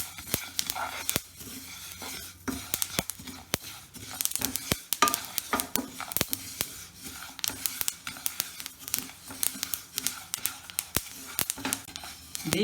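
Sesame seeds stirred continuously while dry-roasting in a pan over low heat, a dense run of light scraping and rustling crackles that goes on without a break, close and fairly quiet, with no talk.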